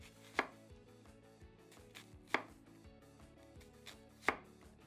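A knife chops through a purple onion on a cutting board, three sharp, evenly spaced thuds about two seconds apart against a quiet background, with faint music underneath.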